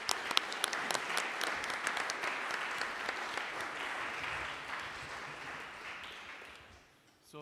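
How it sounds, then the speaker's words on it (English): Sustained audience applause for conference panelists in a college hall, a dense wash of many hands clapping that gradually thins and fades out near the end. "So a round of applause for our panelists"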